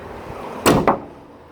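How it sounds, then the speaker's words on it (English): The rear trunk of a 2018 Toyota Sienna LE wheelchair mobility van shuts with a loud, close thump and a second quick latching thud, with no talking. "close the trunk, and you're ready to go"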